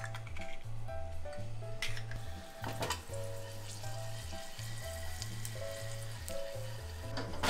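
Something sautéed in a pan of oil while preparing spaghetti del poverello, a steady sizzle sitting low beneath louder backing music throughout, with occasional faint clinks.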